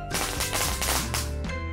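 Rocket fireworks whooshing and cracking in rapid succession, a loud, dense burst of hissing launches and sharp pops filling the whole stretch.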